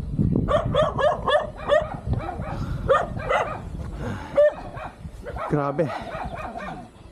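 A dog barks several times in quick succession at a rural home with chickens and a wild boar nearby, the barks mixed with close conversation and other animal and yard noise.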